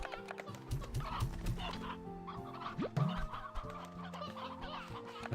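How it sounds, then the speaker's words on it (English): Several hens cluck in a farming video game, a cluster of short, rhythmic clucks and a rising squawk over a steady background music bed at low volume. "That's a lot of hen-hens."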